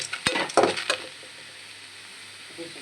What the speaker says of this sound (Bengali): কড়াই গরম হয়ে গেছে, চিংড়ি মাছ দিয়ে দিলাম